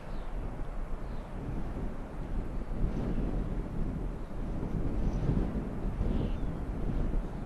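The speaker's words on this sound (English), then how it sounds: "there's a lot of wind here. On this video too." Wind gusting across an open lakeside at Milang on Lake Alexandrina, buffeting the microphone with a steady low roar that swells and dips throughout.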